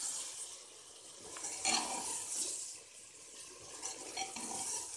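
Green beans and potato sabzi are stirred in a pan while the water cooks off, with a soft steady sizzle and intermittent scraping of a spatula against the metal.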